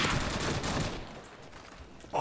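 Sniper rifle gunfire in a Call of Duty 4 free-for-all match on PlayStation 3, a loud close crack and rolling echo that fades over about a second, followed by another sharp shot.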